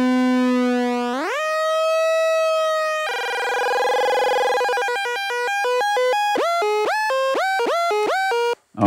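A DRC soft synth oscillator with pitch modulation gives a held tone that glides upward, then a wavering sustained note, then a rapid series of swooping, stepped pitch bends, loud and alone.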